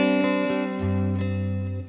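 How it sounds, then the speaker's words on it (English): Electric guitar played through clean delay and reverb on a Boss ES-8 switching system, a few sustained notes and a chord blooming into a smooth, lingering wash of echoes and tails, close and alone without speech. "Have a listen to how clean my delay and reverb are here"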